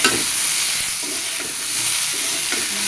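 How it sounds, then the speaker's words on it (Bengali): Potatoes and vegetable stems sizzle and hiss steadily in a hot pan of oil, with a spoon scraping and stirring now and then, close and loud, with no talk. "ডাঁটা খুব ভালো মতো আলু আর ডাঁটা ভেজে নিব"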